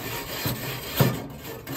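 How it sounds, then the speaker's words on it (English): A pumice stone scrubs a barbecue grill grate with a gritty, close rasp, showing two firmer strokes over steady scraping. "we're just painting pumice stone all over the grate"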